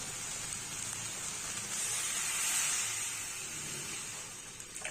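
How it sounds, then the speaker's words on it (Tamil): A steady, close hissing sizzle as water is poured into a hot pan of sautéed vegetables for broccoli soup, swelling slightly midway and continuing without any talk. "இப்போ நம்ம தண்ணி சேர்த்துக்கலாம்"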